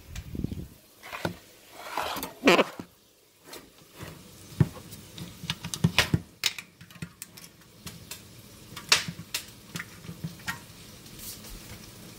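A container of baking powder is opened in a home kitchen while making tortillas, giving a series of close, sharp clicks, taps and rattles with short pauses between them.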